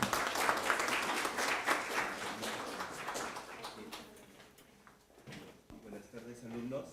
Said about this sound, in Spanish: voy a pedir a todos los participantes que brindemos un fuerte voto de aplausos